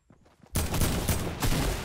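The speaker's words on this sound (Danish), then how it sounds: "Jeg har en shotgun herude." Shotgun fire in the video game Fortnite: a quiet stretch, then a loud burst of gunfire that carries on with a second strong blast near the end, dense and close.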